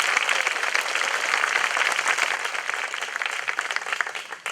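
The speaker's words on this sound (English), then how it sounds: "Let's give one more big round of applause to all our presenters and speakers." An audience at a middle school closing ceremony gives dense, sustained applause for the presenters and speakers, a steady wash of clapping that stays strong throughout.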